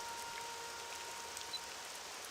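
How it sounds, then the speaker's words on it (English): Rain falling in Starwind, a Star Wars mod for the game Morrowind, a faint, steady hiss of drops with a soft patter and no talk. "Guess what? It's raining."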